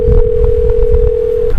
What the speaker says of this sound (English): Wait, my phone.